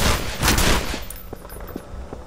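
Gunfire in the co-op shooter E.Y.E. cracks out as a short loud burst of shots followed by a few scattered fainter reports.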